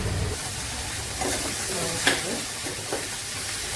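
Sambar heats on the stove, giving a steady close hiss of bubbling and simmering with a few faint pops and clinks, and no talking.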